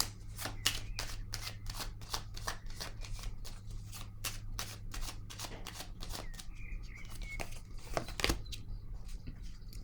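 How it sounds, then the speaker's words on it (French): Oracle cards being drawn and shuffled by hand, a quick close run of crisp riffling slaps and flicks in an irregular rhythm, with a low steady hum underneath. "est-ce que j'ai besoin de piger une autre carte ici?"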